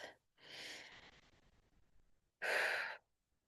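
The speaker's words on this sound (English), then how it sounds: "taking one long, slow, deep breath" A slow, deep breath taken during a calm guided forgiveness meditation, heard as a long, soft inhale followed after a pause by a louder, breathy exhale, close and alone with no talk.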